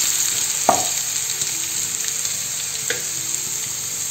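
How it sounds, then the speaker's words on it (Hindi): Ginger and garlic paste sizzles steadily in hot oil, a continuous close frying hiss with a brief louder spatter and occasional stirring scrapes, no talk. "अब हम इसमें अदरक और लहसुन की पेस्ट ऐड कर देंगे"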